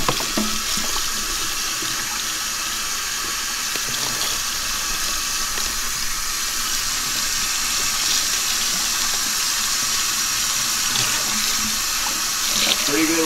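Warm water pours steadily from an indoor sink tap onto a tie-dye tee, a continuous close hiss and splash that stays even throughout with no pauses.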